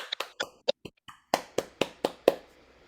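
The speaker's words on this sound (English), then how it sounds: "if we could give a loud or virtual round of applause, we will thank our speakers today." Sparse, scattered clapping from a small audience at an author talk, about a dozen separate sharp claps spread unevenly across a few seconds, moderately quiet with no voices.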